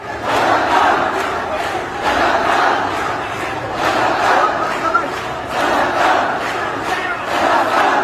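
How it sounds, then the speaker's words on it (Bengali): Large crowd of students chanting protest slogans in unison on a street at night, loud rhythmic shouted phrases repeating in regular waves roughly every two seconds. "শিক্ষার্থীরা তুমিকে আমিকে রাজাকার রাজাকার সহ বিভিন্ন স্লোগান দিতে থাকেন"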